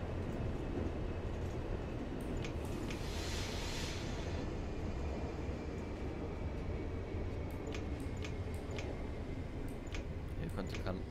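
Train running in Train Simulator 2018, a regional train pulling into a station on the Hamburg–Hannover line, with a steady dense rumble and rail clatter, faint ticking clicks and a brief hiss partway through.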